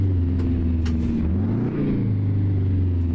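Two-stroke Detroit 8V92 truck engine in American Truck Simulator, a loud, steady low rumble as the revs rise and fall and settle again, close and continuous with no talk.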